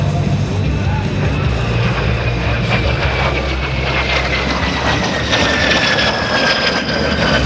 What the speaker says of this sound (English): And Snort comes in first with the white-topped aircraft. Here he is from the right.